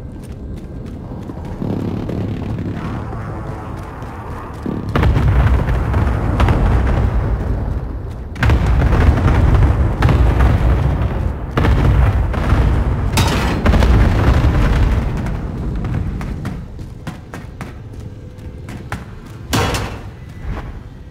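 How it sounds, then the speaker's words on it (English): Heavy booming explosions from a video game precision airstrike roll in over about twenty seconds, dense thuds and rumbling blasts layered together, loud and close with bursts of impact stacking up. "Be advised, friendly precision airstrike inbound."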